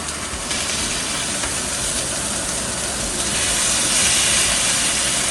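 Steaks sizzle on a grill just after being flipped, a loud, continuous, dense hiss that holds steady and swells slightly toward the end.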